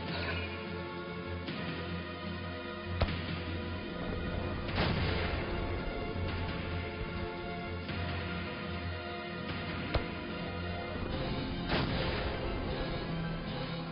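Grenade launcher shots in a Valkyria Chronicles battle land as sharp, fairly faint thumps every second or two under a steady tonal musical score.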